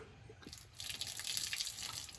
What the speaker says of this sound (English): Like I said, you want trickling water.